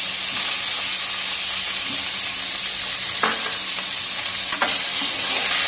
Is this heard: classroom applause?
no